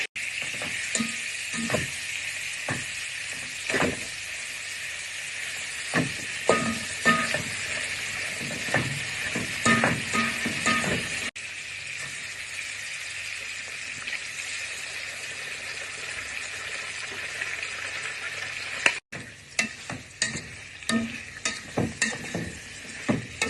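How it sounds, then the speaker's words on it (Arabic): Chicken gizzards and liver stir-fry on high heat, giving a steady loud sizzle over the whole stretch, with repeated scraping and stirring knocks from a utensil in the pan. "هنبدأ في التشويح على نار عالية، واحنا حطينا القوانص الاول علشان بتاخد وقت في السوا"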